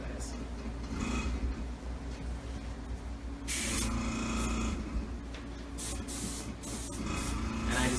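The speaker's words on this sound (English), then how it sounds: "I just want to airbrush towards the center" An airbrush sprays yellow airbrush color onto a pineapple cake in short and longer hissing bursts, fairly close, with a person talking in between.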